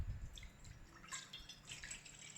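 About 600 grams of water poured into a pot for golden syrup, heard as close, uneven splashing and dripping with no talk.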